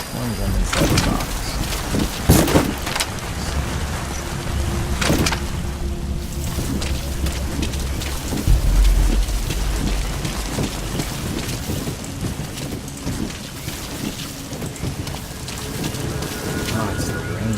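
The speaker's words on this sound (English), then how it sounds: "it's the rain that's destroying the box" Steady heavy rain pours throughout in the video game Metal Gear Solid V, with a couple of thunder rumbles, loud and constant, under a voice speaking at times.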